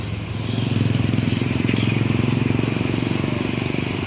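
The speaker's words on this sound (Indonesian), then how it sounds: "Mercedes-Benz ya, dengan mesin Mercedes-Benz 1526 NG super eksekutif" A Mercedes-Benz 1526 NG engine powers an ANS super executive coach leaving a bus terminal in Muara Bungo, giving a loud, steady low diesel rumble with a throbbing pulse that holds close throughout.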